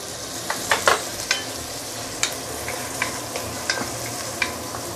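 Chopped tomato and curry leaves sauté in chili paste in a pan, with a soft continuous sizzle and a few sharp stirring clinks and scrapes up close.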